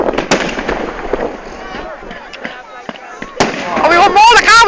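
Class 4 fireworks burst outdoors in a string of sharp cracks and pops, crackling loudly near the end amid people talking and cheering.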